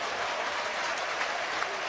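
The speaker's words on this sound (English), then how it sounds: "receiving the applause." A rugby stadium crowd at a Premiership semi-final between Northampton Saints and Saracens gives a standing ovation, a broad, steady roar of clapping and cheering heard from a distance.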